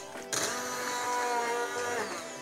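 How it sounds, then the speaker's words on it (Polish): A blender whirs loudly after a short click, its motor steady and droning as it purées courgette and chicken soup, with slight shifts in pitch as the load changes. "I teraz będę ją blendować."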